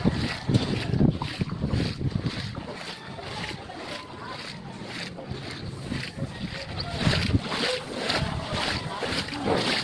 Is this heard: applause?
no